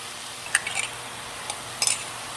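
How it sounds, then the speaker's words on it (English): Pasta sauce goes into beef and barley in a hot skillet on high heat, giving a faint sizzling hiss broken by a few short metallic clinks and scrapes of a utensil against the pan. "I'm going to add some of my homemade pasta sauce to this."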